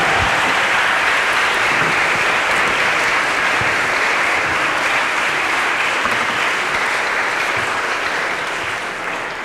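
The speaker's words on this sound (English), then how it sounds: "please give all of our speakers a round of applause." Sustained applause from an audience at a campus panel event on college coal divestment, dense steady clapping filling the whole stretch and tapering slightly at the end.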